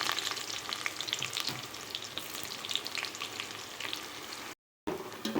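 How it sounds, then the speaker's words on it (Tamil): Chopped onions and whole spices such as cinnamon frying in hot oil for vegetable biryani, a dense bright crackling sizzle heard close and steady, with occasional stirring, briefly cutting out near the end. "இப்போ இந்த ஆயில் நல்லா சூடாகிடுச்சு. இதில் இந்த பட்டை வகையெல்லாம் சேர்த்துக்கலாம். அது கொஞ்சம் பொரிஞ்சதும் இந்த வெங்காயம் கட் பண்ணி சேர்த்துக்கிறேன்."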